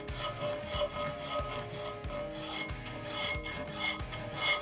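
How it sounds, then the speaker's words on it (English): A slightly coarse half-round file works a front hub on an Aermacchi motorcycle in steady back-and-forth rasping strokes, about two each second, close and fairly quiet. "Got a 1/2 round file here."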